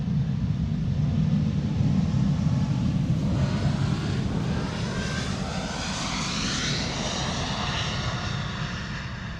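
Loud roaring jet engine noise from a Boeing 777-200 taking off at Amsterdam Schiphol Airport, a broad continuous rumble that holds steady then slowly shifts as the aircraft moves, with no talking.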